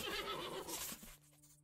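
A horse in the Western survival game Above Snakes gives a loud, drawn-out whinny that fades quickly, with no voices over it.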